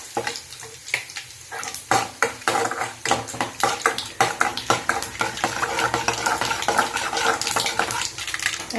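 Mustard seeds and chana dal splutter in hot oil for a chow chow stir-fry, with rapid, loud popping crackles over a continuous sizzle and occasional utensil clinks.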